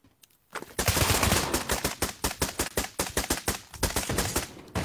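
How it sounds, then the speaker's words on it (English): Rapid automatic gunfire in the VR shooter Pavlov: dense sustained bursts that break into a steady rhythm of loud, close single shots, with no talk over them. "Yeah, I'm getting shot at."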